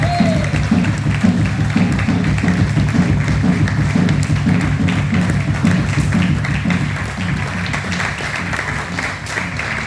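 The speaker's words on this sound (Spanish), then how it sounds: "Vamos, aplauda a Dios, tiene ganas." A church congregation claps and cheers together at an evening worship gathering, a dense, steady wall of applause mixed with crowd voices that holds loud throughout and eases slightly near the end.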